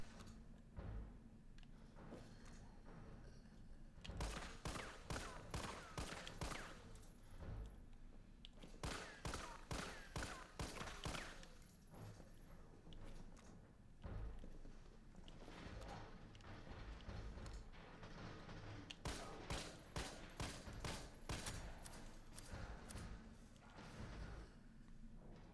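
Carlos's G18 pistol firing in Resident Evil 3 Remake: repeated rapid bursts of loud, crisp gunfire in tight clusters, separated by short pauses over a low, steady game background.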